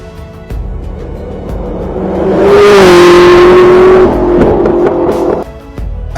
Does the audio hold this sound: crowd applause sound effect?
no